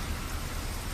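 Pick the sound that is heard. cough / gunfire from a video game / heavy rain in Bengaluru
heavy rain in Bengaluru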